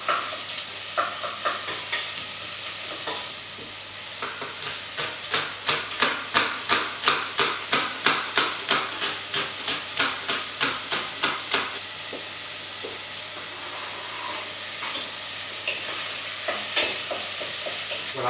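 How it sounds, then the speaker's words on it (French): Vegetables sweat and sizzle in olive oil in a pan over a gas flame, a steady close frying crackle with a run of rhythmic stirring scrapes through the middle and no talk. "on met juste un peu d'huile d'olive de manière à faire suer les légumes. Voilà, ça commence à chanter"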